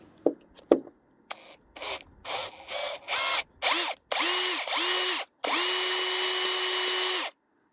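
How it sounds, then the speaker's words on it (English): A power drill whirs in a series of short bursts that grow longer, ending in one sustained high-pitched spin, close and loud with no talking. "Use a power drill."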